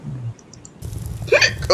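A person hiccups a few times while talking during a game showcase, the sharp catches standing out close and fairly loud against the voice.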